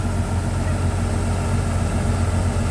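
The turbocharged engine of a Kubota DC-105X combine harvester with an air-conditioned cabin runs steadily at close range, a loud, constant low rumble with a thick mechanical drone and no pauses.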